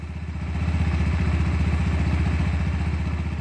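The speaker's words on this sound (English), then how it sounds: "Sounds like it's only running on one cylinder, mate." Sinnis GPX125 learner motorcycle engine running unevenly on one cylinder, a steady rapid mechanical clatter and low throb held close and loud throughout with no talk.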